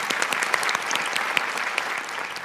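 A studio audience at a Bangladeshi television reality show claps loudly together, a sustained, dense burst of many hands that keeps an even level from start to finish with no talking over it.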